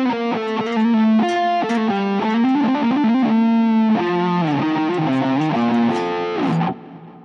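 A distorted electric guitar plays a fast, sustained solo riff, with slides and bends over thick effects, loud and continuous before cutting off near the end.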